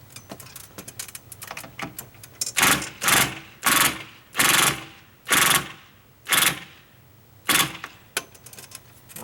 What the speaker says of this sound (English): I'm getting all 4 screws in the edge of the 2x4.